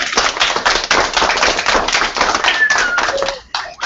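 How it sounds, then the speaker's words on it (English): A crowd of children and adults claps in a dense, steady round of applause for a kindergarten and first grade book talk, loud and continuous for several seconds before thinning out near the end. "Let's give Miss Kate a round of applause"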